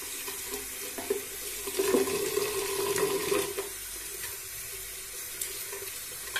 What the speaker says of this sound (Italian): lo vado solo a bagnare con acqua tiepido calda